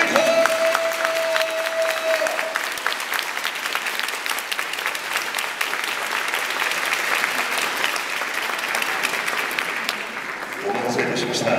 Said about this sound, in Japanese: 改めて大きな拍手を送ってもらいたいと。